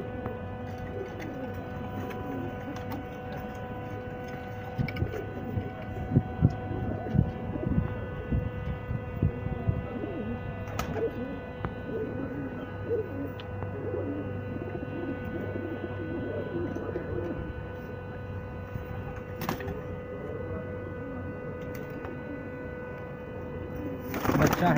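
Pigeons kept in a fancier's loft give low, soft cooing calls that drift on and off in the background, with occasional faint clicks and knocks and a little murmured talk.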